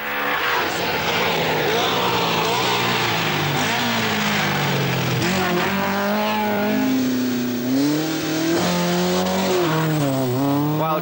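Vauxhall and Opel rally cars from the 1982 RAC Rally race toward the finish, loud engine roar with rising revs and gear changes sweeping past close by, no voices over the engines.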